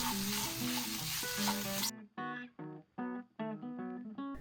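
Potato samosa filling stirred in a pan with spices: a dense sizzling scrape for the first two seconds, then a series of short separate scraping strokes with pauses between them, close and fairly loud, with no talking.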